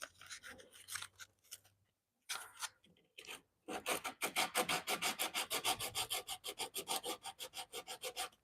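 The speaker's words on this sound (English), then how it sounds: "We're gonna get some fresh sandpaper." Fresh sandpaper rasps by hand over a wooden Danish bookshelf, a few scattered strokes at first, then a fast steady run of close, rhythmic back-and-forth scrubbing.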